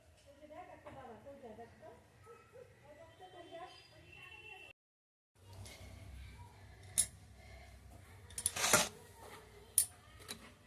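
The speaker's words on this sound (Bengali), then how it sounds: "মাছটা কেটে নিলাম" A large fish being cut up in a home kitchen: soft scraping and handling noises give way to a few sharp chopping knocks near the end, with a voice talking in the background.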